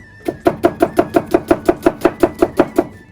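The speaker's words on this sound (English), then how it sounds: "Right, fresh onion, cut it in half because the brother requested it" A knife chops a fresh onion on a cutting board in about fifteen close, steady strokes, an even quick rhythm of sharp knocks with no talking.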